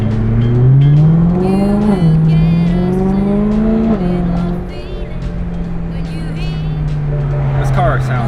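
A BMW M3 engine revs up through the gears while driving, with rising whines broken by shift drops, then settles into a steady cruise, loud and close from inside the car, with brief talk over it.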